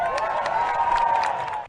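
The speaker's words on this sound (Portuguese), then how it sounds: "Uma salva de palmas para Elon Musk!" A rally crowd applauds and cheers for Elon Musk, a continuous wash of clapping and voices heard from some distance, with a sustained tonal hum running underneath.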